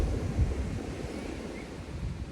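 Steady low rushing of ocean surf on a beach in Salvador, Brazil, with wind, a continuous wash of sound with no distinct breaks or voices.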